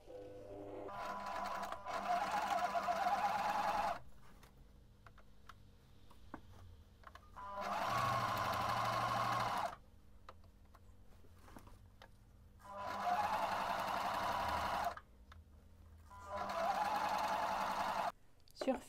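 A sewing machine stitches fabric one centimetre from the edge in four separate bursts of fast mechanical whirring, with quiet pauses between them, close and clear.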